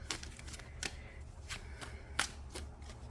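Tarot cards being shuffled by hand for a card reading, with quick papery riffles and a few sharper slaps in an uneven rhythm, close and fairly quiet, with no talking.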